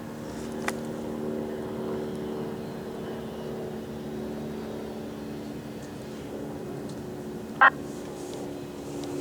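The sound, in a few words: airplane flying overhead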